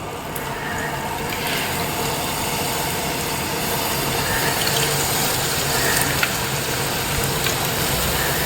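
Water pouring steadily into a large pot of biryani rice being made in a 10 kg batch, a loud continuous rushing gush with a faint engine-like rumble beneath and brief murmurs of voices.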